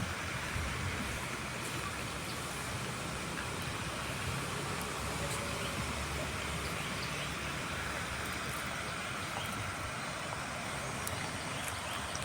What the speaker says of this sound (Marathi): पाणी पण किती शांत पडतंय पण खाली आल्यानंतर एवढं जोरात दिसतंय